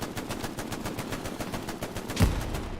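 Sustained machine-gun fire in the World War II shooter Hell Let Loose, an MG firing rapid, evenly spaced bursts at mid distance, with a louder blast near the end and no voices over it.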